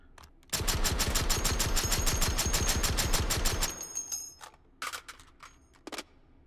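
A shotgun in the VR game Hot Dogs, Horseshoes & Hand Grenades fires a long, loud, rapid string of about three seconds of evenly spaced blasts at walls, followed by a few scattered, quieter impacts and clatters.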